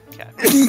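A sneeze bursts out partway through a brief stretch of group talk during a tabletop Pathfinding game session, loud and close after a quieter murmur of voices.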